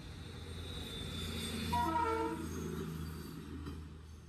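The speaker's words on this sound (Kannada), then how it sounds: "ಯಾವುದೋ ಒಂದು ಟ್ರೈನ್ ಬರೋ ಥರ ಇದೆ" A train, only the locomotive, passes a closed railway level crossing, its horn sounding mid-clip over a steady low rumble of the engine at moderate distance.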